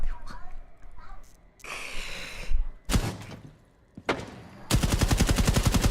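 Several rapid bursts of video game gunfire, ending in a loud, evenly pulsing automatic stream, with a voice speaking and gasping between the shots.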